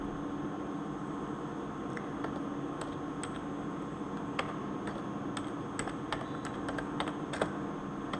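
C code is typed on a computer keyboard in a quiet room, with irregular clicking keystrokes in scattered bursts over a soft steady hum, and no speech.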